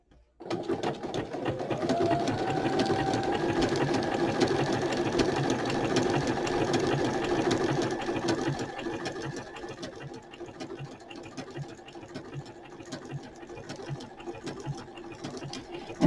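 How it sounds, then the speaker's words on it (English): A sewing machine runs a straight stitch around a paper junk journal page with an envelope cascade, giving a steady, quiet mechanical whir and rapid needle patter that drifts softer toward the end. "I'll probably just do a simple straight stitch all the way around it"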